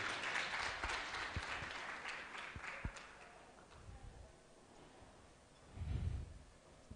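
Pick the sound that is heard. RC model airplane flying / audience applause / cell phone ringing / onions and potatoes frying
audience applause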